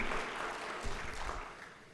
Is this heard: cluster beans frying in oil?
no